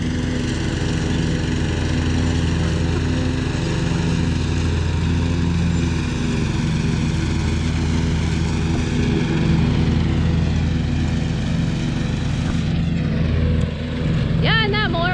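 A lawn mower engine runs nearby between pine trees on a Christmas tree farm, giving a loud, steady drone throughout. Near the end a brief higher-pitched whine rises over it.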